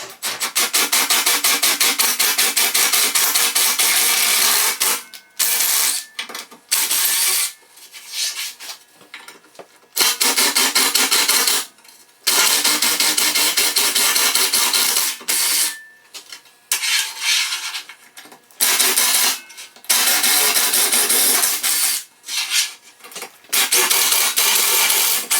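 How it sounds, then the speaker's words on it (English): A drill with a 5/16 bit bores holes in metal to mount a motorcycle trunk, in loud grinding bursts of several seconds separated by short pauses, close to the listener and with no speech. "Now we're going to go with the larger size 5/16 bit."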